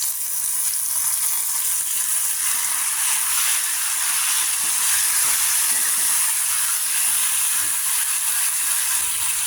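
Chopped tomatoes and onions fry together in a pan for a cucumber curry, producing a constant, even, close-up sizzle with faint stirring ticks and no talk.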